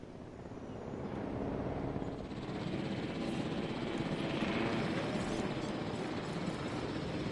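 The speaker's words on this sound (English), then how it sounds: "made my helicopter stay where it was" Helicopter in the video game Jurassic World Evolution flies nearby with a steady, dense rotor and engine roar that swells slightly after the first second and holds loud throughout, no voices present.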